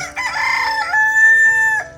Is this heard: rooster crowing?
yes